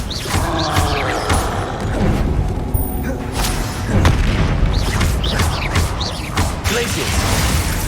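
Confringo blasting spells cast in the video game Hogwarts Legacy: a dense stretch of booming blasts, whooshes and crashing impacts, loud and near, with a voice heard at times.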